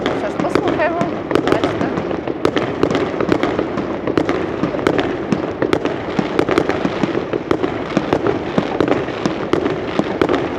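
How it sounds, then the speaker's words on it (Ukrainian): Fireworks going off outside in the daytime, a dense run of sharp cracks and pops, many bursts close together over a continuous crackling wash, with no one speaking. "У нас ще день, але салют."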